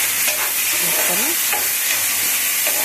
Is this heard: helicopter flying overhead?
no